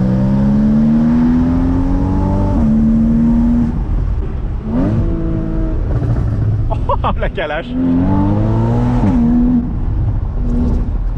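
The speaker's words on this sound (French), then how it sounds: "ça active le mode sport et automatiquement les clapets à l'échappement" A sports car in sport mode with its exhaust valves open, using the sequential automatic gearbox with steering-wheel paddles, revs hard again and again, its engine note climbing and dropping loudly up close, with a brief exclamation from a person.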